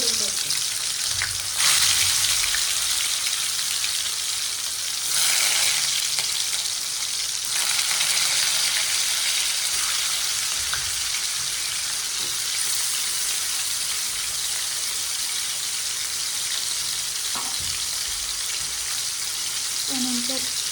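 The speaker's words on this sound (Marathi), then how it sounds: "कढई ठेवली, त्यात तेल टाकलं, मोहरी टाकली, मोहरी मस्त तडतडली की त्यात एक" Bitter gourd fries in hot oil in a kadhai with mustard seeds crackling, giving a steady, close sizzle with scattered pops across the whole stretch and no talk over it.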